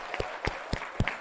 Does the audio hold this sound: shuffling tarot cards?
no